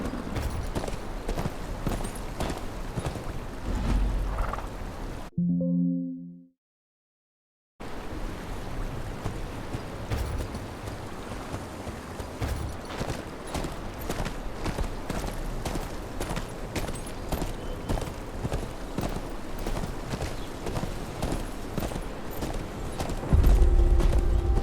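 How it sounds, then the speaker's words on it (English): Horse hooves clip-clop steadily through a long ride in the Game of Thrones Kingsroad video game, a continuous mid-level rhythm with ambient wash behind it, a brief silent gap near the start, and a short voice-like tonal patch. "Where's your horse? Mount up and let's go."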